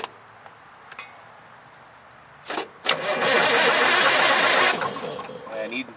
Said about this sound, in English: Okay, you want to crank again?